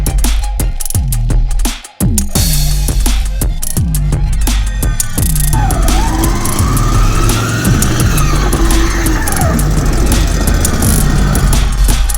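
A small Smart car engine, just fitted with a new battery, runs loudly nearby, sputtering at first and then revving up and down in rising and falling surges.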